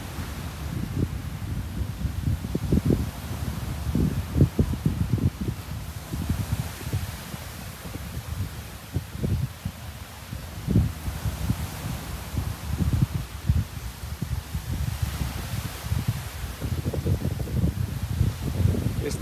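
Steady amihan wind gusts across Bolabog Beach on Boracay, a continuous broadband rush with low buffeting thumps on the microphone, loud and close, with no voices.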